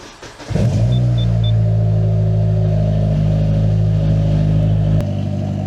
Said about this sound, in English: now this car is kind of loud